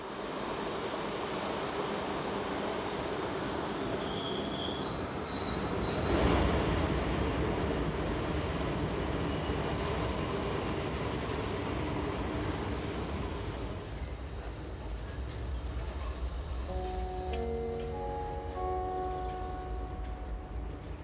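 A BLS Lötschbergbahn train runs on the tracks near Spiez station, heard as a continuous broadband rumble with wind-like rushing and a swell midway, joined late by a faint tonal hum.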